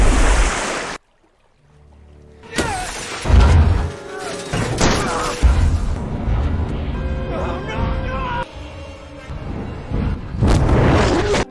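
Grenades burst against an alien tripod war machine in a film battle scene, with heavy booms and rumbling thuds over a dense layer of score and effects after a brief near-silent pause.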